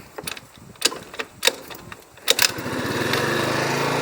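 A TaoTao ATM50-A moped's small 50cc engine is cranked with a few clicks and sputters, then catches and settles into a steady, close buzzing idle with no talk.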